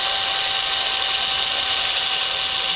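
A power drill whines steadily and loudly at close range, driving a screw into a swing set being repaired, a continuous high-pitched motor hum with no pauses.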